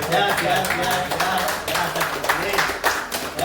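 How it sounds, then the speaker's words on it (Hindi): An audience claps and applauds at an IMC business gathering in a hall, steady dense clapping filling the whole stretch with voices mixed in. "सब लोग तालियां"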